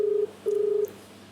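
Two steady dial tones beep in quick succession as a telephone number is dialed on a phone, each clear and fairly loud with a short gap between, followed by quiet room tone.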